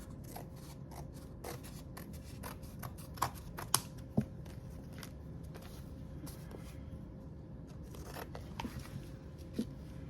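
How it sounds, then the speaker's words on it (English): Scissors trim the edges of paper for a dark, Tim Burton-style DIY craft, making a series of soft, close snips and crisp cuts over a steady low room hum. "then we can trim the edges. And we'll just trim this off."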